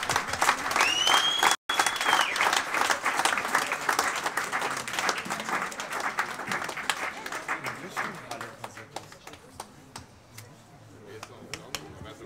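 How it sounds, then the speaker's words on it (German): An audience claps at a farewell event, a dense crackle of many hands that is loud at first, then gradually thins and fades to scattered claps, with a brief whistle early on and voices underneath. "Richtigen Applaus."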